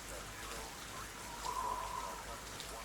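Rain falling in the Arma 3 military video game, a faint, even hiss of drops that continues the whole time, with a brief tonal sound partway through.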